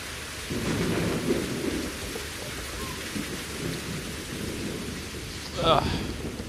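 A thunderstorm in the game Better Late Than Dead brings steady, heavy rain with low rolling thunder underneath and a sharper crack near the end.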